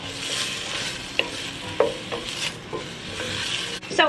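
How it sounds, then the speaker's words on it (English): Vegetables sautéing in olive oil and butter in a pot, a steady close sizzle with a few sharp clinks of a spoon stirring against the pot and a brief scrape near the end. "I'm just going to add all of the veggies, and we are going to saute them until they are soft and translucent"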